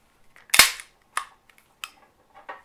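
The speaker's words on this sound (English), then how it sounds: "a snap cap, because I'm going to have to do some dry firing" Nighthawk Custom AAC 1911 pistol dry fired on a snap cap: one sharp, close metallic snap followed by three lighter clicks and a soft final click, crisp and isolated in quiet.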